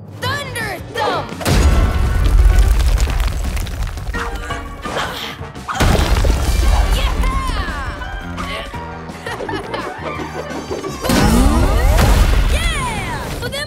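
A cartoon superhero cat's special jump, the Thunder Thump, lands as a heavy ground-pound boom: loud crashing thuds in bursts over a dramatic music score, with voices and cheering around them.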